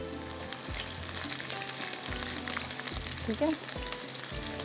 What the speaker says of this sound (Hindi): यहाँ पर जब तक हमारा प्याज जो है ये ब्राउन हो रहा है